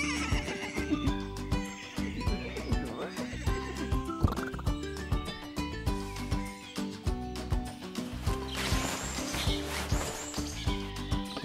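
A toy horse gives a bright electronic neigh and whinny with clip-clop hoofbeats, playing over a steady jingly tune, close and fairly loud.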